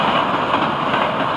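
An FEC freight train hauling double-stack cars passes close by, a loud continuous broadband roar and rumble of wheels and cars with no break.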